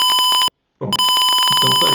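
A simulated Arduino PIR motion-sensor alarm speaker in Tinkercad sounds a loud, steady electronic tone, broken by one short silent gap before the ringing resumes.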